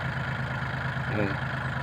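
An old farm tractor engine idles at a steady, low, even chug, close and continuous, with a faint voice briefly in the background.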